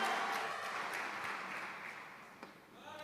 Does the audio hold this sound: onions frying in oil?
no